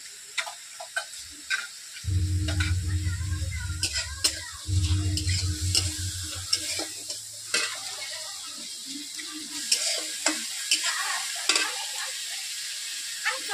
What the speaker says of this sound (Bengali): 1 থেকে 2 মিনিট মশলাটাকে আমি কষে নিচ্ছি ভালো করে।